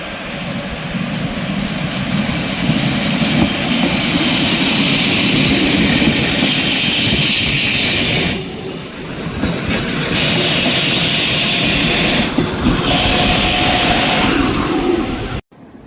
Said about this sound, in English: I can wait and see this train leave.